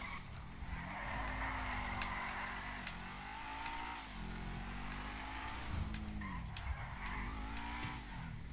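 A BMW M4 drifts in the game GTA V with a revving engine that rises and falls under loud, sustained tire squeal and skidding, repeated in several sweeping slides.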